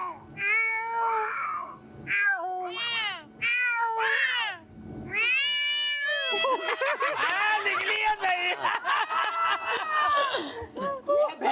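Several people imitate fighting cats on a game show set, voices yowling and wailing in overlapping drawn-out cries, loud and close, with a crowd murmuring and some talking mixed in.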